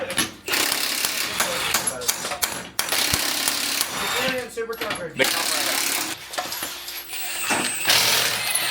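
Repeated metallic clanks and bangs ring out as a hammer knocks a rusted, stuck lug nut out of a socket, irregular blows with scraping and rattling between them, close by, with some talking.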